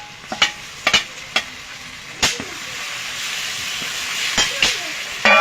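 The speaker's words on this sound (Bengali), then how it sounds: "আমি পেঁয়াজ রসুনটা কিছু সময় কষিয়ে নিয়েছি, এবার দিয়ে দেবো আদা শুকনো লঙ্কা বাটা, জিরে ধনে বাটা।" Onion, garlic and spice pastes fry in a pan for chicken kosha, a steady close sizzle broken by several sharp clanks and scrapes of a spoon against the pan, no speech.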